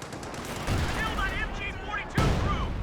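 Rapid rattling bursts of MG42 machine gun fire in the Company of Heroes 2 game, dense and continuous with a sharper burst near the end, while a commentator talks over the gunfire.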